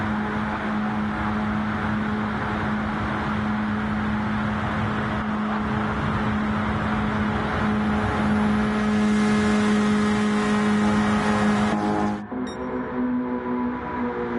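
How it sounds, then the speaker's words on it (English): Stock car engines roar in a Daytona race in Gran Turismo 7, a CASCAR Cup Series event: a loud, sustained droning pack at high revs with a steady hum, cutting off sharply near the end before a quieter engine tone. "Love to hear the roar of those engines."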